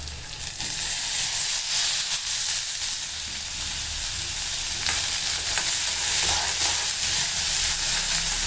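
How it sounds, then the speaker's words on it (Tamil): Onions frying in hot oil with asafoetida in a pan, a loud, continuous close-up sizzle and crackle with faint stirring scrapes underneath. "அந்த பெருங்காயம் கறியதுக்குள்ளே வெங்காயத்தை போட்டுடலாம்"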